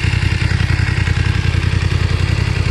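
A 2021 BMW F900 XR sports-touring motorcycle with an 895cc engine runs loud and close, giving a fast, even pulsing exhaust beat with no voices.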